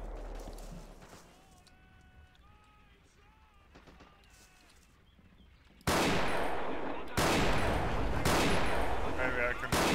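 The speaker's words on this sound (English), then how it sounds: "they have more shooting at me though. With the Bren gun, I believe" Bren gun and other gunfire in a Forgotten Hope 2 multiplayer battle at Pegasus Bridge, quieter distant shots at first, then loud sustained bursts of automatic fire close by, with a voice talking.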